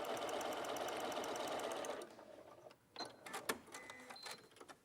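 A sewing machine stitching quilt fabric with a quarter-inch foot at a short stitch length, running in a fast steady whir for about two seconds, then stopping, followed by lighter clicks and handling noises.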